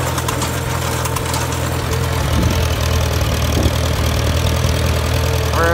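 A 1952 Farmall Super C tractor engine runs steadily in second gear while spreading manure on a field, a loud, continuous mid-pitched drone with a knocking rumble and vibration, no voices.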